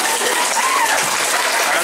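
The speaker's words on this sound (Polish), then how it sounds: "Brawa." An audience at a Polish school's first-grader initiation ceremony claps in steady, dense applause that fills the whole moment, with no voices over it.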